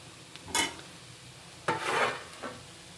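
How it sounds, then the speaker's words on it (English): Beans curry with fresh coconut is stirred in a pan on a low flame, heard as a few short, soft scraping swishes of a spoon against the pan. "just stir in and mix it and cook it for 2 more minutes"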